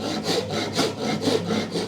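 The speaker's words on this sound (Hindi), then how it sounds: "ये देखना बिल्कुल आरी इसके साथ सट के चलती है।" A hand saw runs along a magnetic guide jig through wood in quick, even back-and-forth strokes, four rasping passes close up and loud with no talking.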